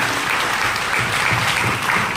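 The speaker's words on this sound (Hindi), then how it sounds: "एक बार जोरदार ताली सर के लिए प्लीज" Loud, close applause from an audience at a seminar hall, a thick continuous burst of many hands clapping with no talk over it.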